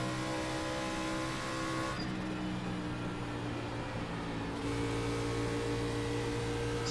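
A NASCAR race car engine in iRacing at Texas drones steadily at high revs, dipping briefly as the car rolls into a turn before pulling hard again.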